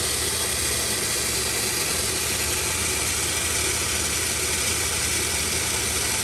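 A car engine idles steadily under the open hood, showing a crankshaft pulley and harmonic balancer wobble, with a constant close-up mechanical drone and a faint ticking rattle throughout.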